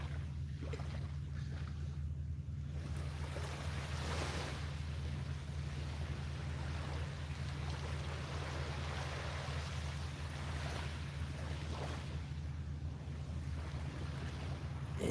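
Waves roll steadily onto a beach in the evening, a continuous broad wash of surf with a low, constant rumble and some wind noise on the microphone, with no voices present.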